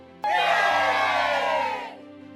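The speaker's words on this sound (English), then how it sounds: "A small cheer went up from the crowd." A crowd's sudden loud cheer and shouting in a radio play, bursting in abruptly, holding for about a second and a half, then cutting away to a quieter background.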